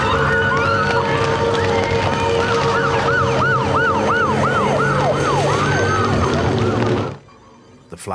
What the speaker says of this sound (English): Then comes the sirens.